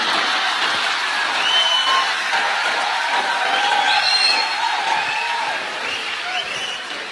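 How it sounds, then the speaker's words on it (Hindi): Audience clapping steadily through a hall at a talk, a continuous dense patter of many hands with faint crowd murmur, fading slightly toward the end. "लेकिन आप ताली मत बजाओ"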